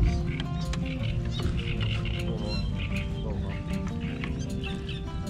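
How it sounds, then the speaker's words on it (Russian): A small duckling calls with repeated thin, high peeps close by, heard over a loud, continuous low rumble of a boat motor or wind, with background noise throughout. "Уточка."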